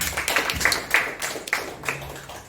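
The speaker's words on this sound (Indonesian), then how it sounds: "Tepuk tangan untuk beliau." Sparse clapping from a small audience, a handful of distinct hand claps scattered over a couple of seconds, fairly close and without voices.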